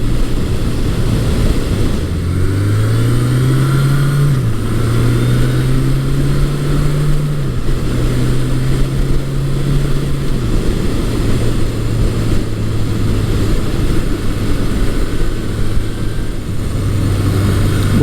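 A 1980-1981 Suzuki GS1100E motorcycle engine while riding, a steady loud drone that rises in pitch through the gears and then settles, with constant wind rush, no talk.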